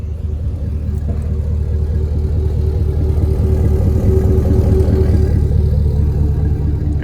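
A 2019 GMC Sierra 1500's 6.2 V8 idles steadily with a low, throbbing exhaust rumble, close and continuous with no talking.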